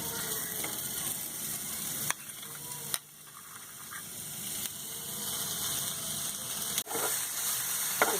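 A steady hiss of frying in a pan runs throughout, with a few sharp clicks and knocks of utensils; no voices.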